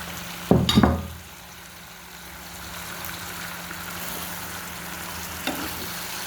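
Greens (pui shak) being stir-fried with spices for a fish curry, with a loud burst of stirring and sizzle near the start, then a steady soft frying hiss with occasional faint scrapes.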